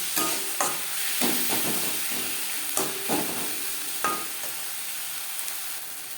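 Onion, tomato, turmeric and salt stirred in a frying pan for a katla fish curry, a steady close sizzle broken by repeated scraping strokes of a spatula against the pan.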